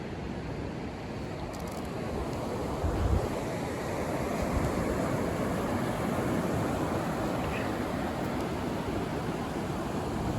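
Rough ocean surf rolls onto the beach at Galveston Island, a steady, loud wash of breaking waves with wind buffeting the microphone and no talk throughout.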